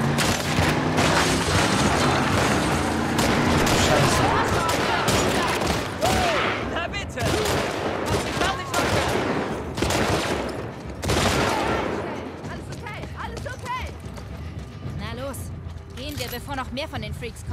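Gunfire fills a scene in The Last of Us Part II, with dense rapid shots and booming blasts mixed with game sound effects, loud and continuous, while characters speak over it.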